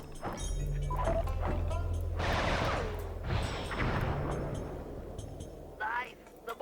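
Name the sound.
fireworks attack exploding in video game Sly 3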